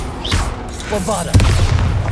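Bombarda explosion spell cast in the video game Hogwarts Legacy: a loud, deep booming blast with a heavy low thump partway through, over busy game combat noise and a brief shouted voice.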